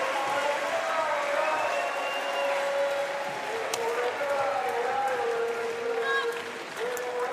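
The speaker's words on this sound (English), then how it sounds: "Big French crowd enjoying that bronze medal match with Mazur and Noel competing for bronze." Big crowd at a para badminton bronze medal match applauding and cheering, a sustained, fairly loud rush of clapping and voices in an indoor arena, with a commentator talking over it.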